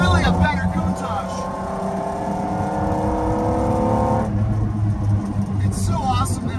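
A 1992 Lamborghini Diablo climbs canyon roads toward 5,300 ft, its engine holding a steady loud drone with rising tones before a gear change, then droning on with brief revs; a voice talks over it.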